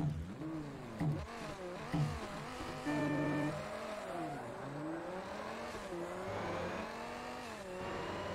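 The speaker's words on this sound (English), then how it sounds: "That is one hell of an engine noise." A high-revving turbocharged race car engine in the video game Forza Motorsport screams and shifts pitch repeatedly, climbing and dropping as gears change, loud and close throughout.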